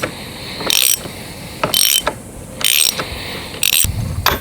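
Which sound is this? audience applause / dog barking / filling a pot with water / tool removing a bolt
tool removing a bolt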